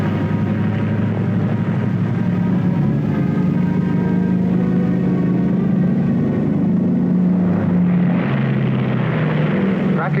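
The Bell XS-1 rocket research plane in flight gives a steady loud engine drone and rumble throughout, with a rising roar near the end, under a narrator's voice.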